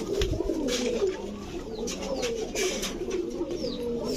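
Tiger gola pigeons coo in a steady, overlapping murmur of low throaty calls, close and continuous with faint chirps above.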